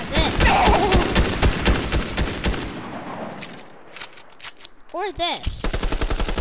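Rapid bursts of video game gunfire from a console shooter, loud and dense for a couple of seconds before thinning out, with people talking and exclaiming over and after the shots.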